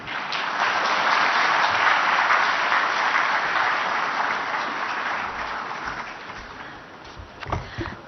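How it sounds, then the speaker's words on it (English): Sustained applause from a large audience at an international irrigation council meeting in a hall, dense and steady, gradually thinning toward the end with a few louder claps near the close. "a huge round of applause for everyone on the dais"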